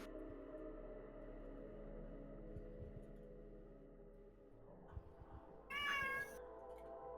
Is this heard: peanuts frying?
no